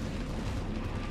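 Units firing weapons at Flood stalks in the strategy game Halo Wars, a dense burst of booming gunfire and explosive blasts, loud and continuous for a brief moment.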